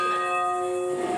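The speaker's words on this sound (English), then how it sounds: "The bells at Jensen Beach Christian Church have been ringing for more than 100 years" Church bells of Jensen Beach Christian Church, rung for more than a century, sound as one steady, sustained ringing tone with rich overtones that hums on evenly throughout, alone and fairly close.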